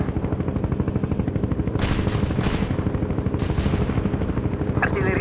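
Artillery barrage in the real-time strategy game World in Conflict, steady rapid thudding fire pulsing throughout, with a few sharper blasts on top and faint helicopter-like droning underneath.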